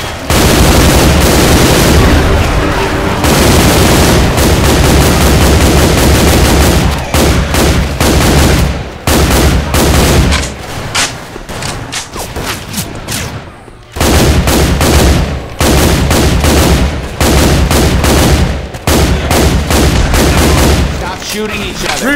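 Sustained bursts of K-2 Core rifle fire in a Left 4 Dead 2 mod, loud and dense with rapid repeated shots, broken by brief pauses, with voices talking over the shooting.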